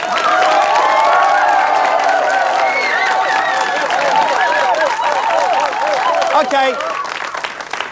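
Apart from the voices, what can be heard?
studio audience applause and cheering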